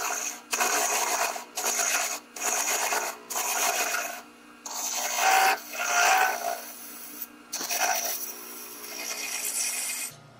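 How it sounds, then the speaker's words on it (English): Small gouge cutting wood on a lathe-turned birdhouse knob, pulling downhill against cross-grained layers: a series of short, close, rasping scrapes in bursts of about a second, repeated steadily with brief pauses between. "Use a little tiny gouge here."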